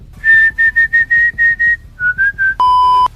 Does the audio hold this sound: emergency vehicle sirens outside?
no